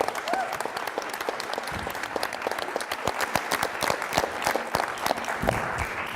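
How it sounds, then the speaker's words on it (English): An audience applauds steadily at a talk on the future of artificial intelligence, a dense wash of many hands clapping at close range, with a voice briefly audible through it. "as well as a round of applause, please, for our administrative team at CFI led by Susan Goins."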